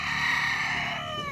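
A yellow-legged hatch gamefowl rooster gives a single close, loud, drawn-out crow that fades at the end.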